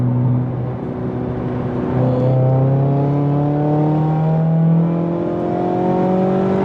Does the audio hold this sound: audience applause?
no